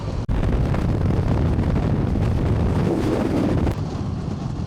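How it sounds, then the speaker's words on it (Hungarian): Loud, low rumbling wind buffets the microphone almost continuously while driving at about 120, dropping off briefly near the start and easing slightly at the end. "Nem tudom, mi hallatszik, de olyan szél van"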